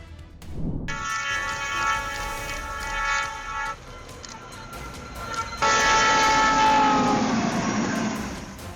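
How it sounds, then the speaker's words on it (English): A train sounds its horn in long sustained blasts over a steady rumbling roar of rolling railcars as its snowplow clears snow from the tracks in Illinois. "A train in Illinois used a snowplow to clear the tracks, sending a powerful spray of white snow into the air."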